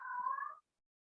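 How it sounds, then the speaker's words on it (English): A house cat gives a single short meow, faint and a little distant, then stops into silence. "Sorry for the cat."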